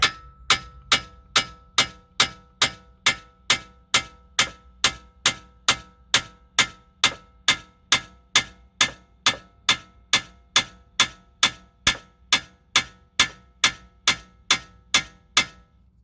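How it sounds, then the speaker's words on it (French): A shock absorber is being hammered out of an Audi A3 1.8T suspension with its upper and lower bolts removed. Steady metallic hammer blows ring out, about two per second, close and loud with short ringing decays and no talk. "Donc une fois démonté, boulon haut, boulon bas, il n'y a plus qu'à taper."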